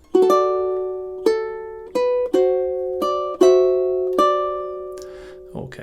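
Fingerstyle ukulele playing two measures of a relaxing song, plucked notes and chords ringing out clearly one after another in a slow, spaced rhythm, close and alone.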